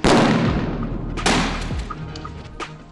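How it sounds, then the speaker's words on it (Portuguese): A grenade bursts in a prison cell block during a police riot-control drill. One loud sharp blast rings out and decays, then a second bang follows about a second later, with fainter knocks trailing after it. "Do outro lado, uma granada."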